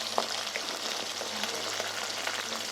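Onion and garlic frying in hot oil with mustard seeds, fenugreek, chana dal and dried red chillies, a steady soft sizzle with faint scattered pops throughout, close and quiet.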